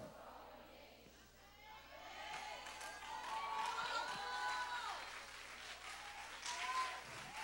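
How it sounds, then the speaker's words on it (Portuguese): A church congregation applauds and cheers in a large hall, a sustained wash of clapping and crowd noise that swells midway and stays fairly loud, with a faint undertone of voices. "Se você vai aplaudir, você deve aplaudir melhor."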